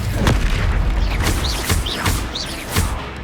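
Repeated Incendio fire spells cast in Hogwarts Legacy, each a booming whoosh of flame. Four or five bursts land about half a second apart over a low rumble, loud and close.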